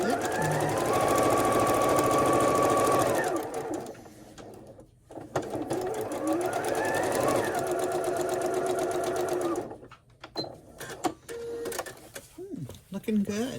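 A sewing machine stitches a quilt seam in two sustained, close runs separated by a pause, with a person speaking during the breaks and toward the end.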